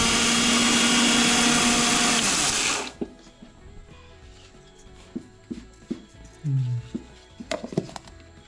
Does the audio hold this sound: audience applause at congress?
no